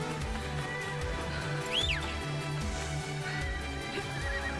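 A horse in Assassin's Creed Shadows whinnies over a steady low hum and background clatter, a short rising-and-falling neigh standing out midway, with faint whistle-like tones later.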